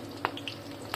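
Garlic and curry leaves sizzle in hot oil as tempering for a village-style crab curry, a faint steady frying hiss with a few light clicks of a spoon.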